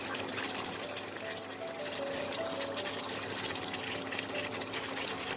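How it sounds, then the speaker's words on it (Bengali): Restaurant-style Punjabi kadai paneer gravy simmers in a kadai, producing a steady, close bubbling and gentle sizzling hiss that runs on evenly with no talking. "এবার এটাকে আমি 5 মিনিট ফুটিয়ে নেব"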